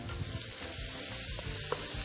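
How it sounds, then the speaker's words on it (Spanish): Paprika frying in a pan with rice for an Iberian rice dish with snails, a steady close sizzle broken by scraping stirring strokes. "El pimentón ahora mismo se está friendo."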